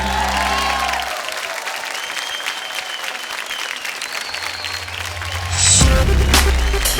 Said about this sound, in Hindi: दर्शक बंधु अनुरोध करी गोटे जोरदार करताली दी स्वागत जना